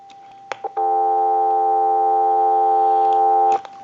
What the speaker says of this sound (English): You can probably already pick up the dial tone.